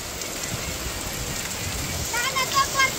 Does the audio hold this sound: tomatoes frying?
no